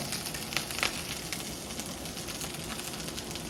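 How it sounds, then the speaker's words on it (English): Shrimp and vegetables stir-fry in butter and avocado oil over high heat, giving a steady broadband sizzle with a few sharper crackles and pops near the start, loud and close without any talking. "All right, nice quick stir fry."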